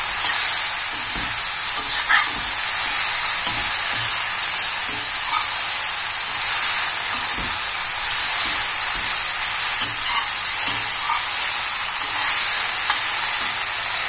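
Okra (bhindi) fries over a high flame for crispy bhindi, giving a loud, continuous close sizzle and hiss with occasional soft stirring clicks throughout.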